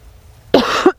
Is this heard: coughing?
yes